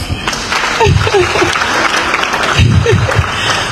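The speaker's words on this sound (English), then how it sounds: "Clap for yourselves." At the launch of an Executive Mansion communication internship, the crowd claps for itself, loud scattered clapping mixed with voices and bursts of cheering from people nearby.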